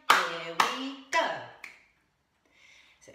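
Four sharp, evenly spaced hand claps ring out in rhythm to a simple children's song for a primary school class, each followed by a tonal tail that may be sung voice, then a quieter stretch with faint clicks near the end.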